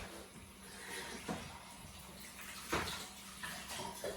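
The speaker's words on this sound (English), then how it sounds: "And just wash my hands because I've touched my nose." Running tap water splashes steadily at a kitchen sink while hands are washed beneath it, with a few soft knocks and clatters, fairly quiet and close.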